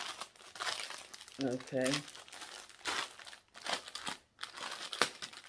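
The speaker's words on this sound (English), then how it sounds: "Sorry about all that crinkling." Plastic packaging around newly delivered clothing headbands crinkles and crackles in repeated close bursts while someone speaks briefly in between.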